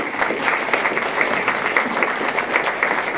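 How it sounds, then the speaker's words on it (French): An audience at an event in Châteauroux claps steadily with many hands, a fairly close, even patter that holds throughout, with no one speaking over it. "On les applaudit."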